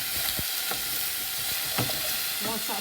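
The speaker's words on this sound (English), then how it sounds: "Now because the rice was wet and I'm now putting it into the vermicelli, you're going to get that sizzling noise." Wet rice and vermicelli hit hot fat in a pan, giving a steady close sizzle with a few sharp stirring scrapes and clicks, no voices.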